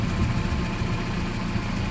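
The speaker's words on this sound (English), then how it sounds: "engine running, right about 900 RPM, and it's smooth as" A 1983 Volvo 240 engine idling smoothly at about 900 RPM, heard close up as a steady, even low hum with a faint mechanical pulse and no talk over it.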